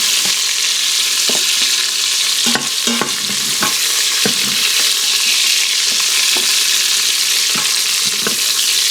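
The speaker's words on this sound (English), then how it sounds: "We still have the grease from the bacon in the bottom that we're frying this beef in." Steady, loud sizzling of beef browning in bacon grease, with occasional clinks and scrapes of a utensil stirring the pan.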